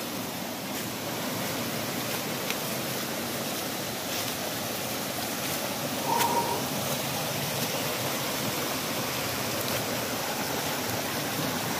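Rushing water from the waterfall and cascade at Goiabol in Bom Jardim fills the air as a steady, even roar with no pauses.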